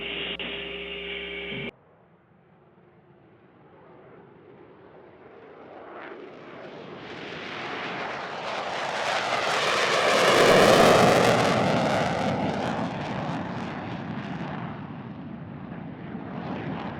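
The NASA X-59 jet aircraft climbs after takeoff, a broad engine roar that swells to a loud peak midway and then settles into a steady, slightly fading rumble, heard without talk.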